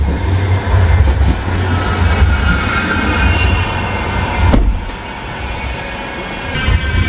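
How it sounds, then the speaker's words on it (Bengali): A Kolkata-style tram rumbles past on its rails, a steady loud low roar that holds for several seconds before easing off, with traffic noise around it and no talking. "ওই যে ট্রাম যাচ্ছে"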